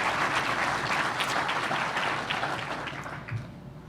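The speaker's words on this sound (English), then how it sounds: "So let's please give the committee a round of applause." Warm applause rises for the committee at an awards banquet, a full crowd clapping steadily at close range before gradually tapering off.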